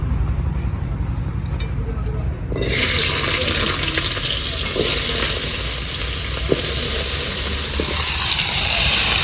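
After a quieter stretch, potatoes go into a pan of hot oil where fish has just been fried, setting off a sudden loud, dense sizzle that roars steadily on.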